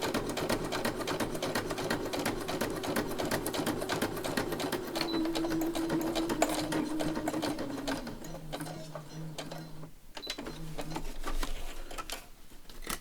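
A sewing machine runs steadily as it stitches a long line across fabric for a textile journal, whirring continuously for about eight seconds before slowing and stopping in a few short bursts.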